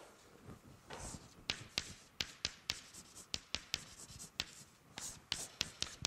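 Chalk writing on a blackboard during a mathematics lecture, a run of crisp taps and short scratches in an irregular rhythm, close and quiet, with no voice over it.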